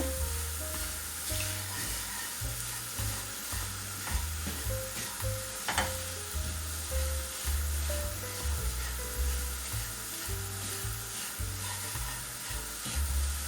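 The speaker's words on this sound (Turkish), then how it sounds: "Evet, kavuruyoruz biraz." Flour roasts in oil in a pan for flour halva, giving a steady, close sizzle with rhythmic scraping and stirring strokes throughout, with no talking.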